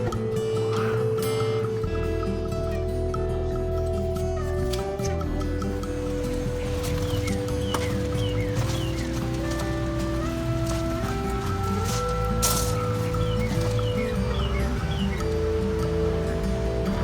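An old stamp mill at the Crisson Gold Mine starts up, a loud, steady mechanical roar with layered low hum and rhythmic clanking that fills the whole stretch without pause.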